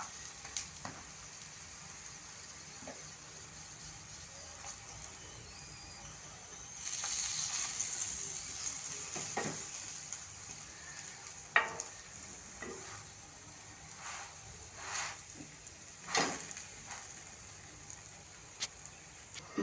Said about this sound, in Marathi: दुसऱ्या बाजूने पण आपला पराठा छान शेकून झालाय भाजून झालाय